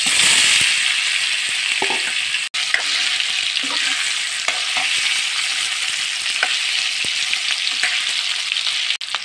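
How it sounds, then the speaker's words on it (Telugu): Paneer pieces frying in hot oil in a kadai, a steady close sizzle and crackle throughout with occasional stirring clinks and scrapes, no voices. "కలిపెట్టుకున్న పన్నీర్ ముక్కలు ఇందులో వేసుకొని ఒక్కొక్కటిగా ఫ్రై చేసుకోవాలి."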